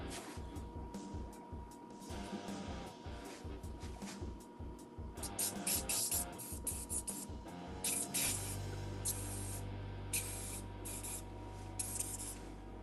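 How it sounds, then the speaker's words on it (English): A steady aerosol accelerator spray for setting super glue hisses in short bursts, then in longer continuous blasts, close up, over a low rumbling background. "the spray is just to set that super glue instantly"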